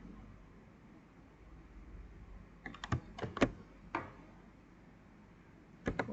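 Someone types a schedule expression on a computer keyboard: a quiet stretch, then a short burst of close key clicks, a pause, and two final taps, over faint room hum with no voices.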